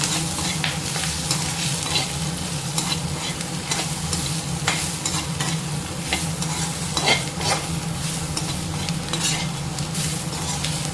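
A spatula stirs an ivy gourd stir-fry with green chillies and spices in a pan, scraping and tapping in quick, continuous strokes over a loud, steady sizzle.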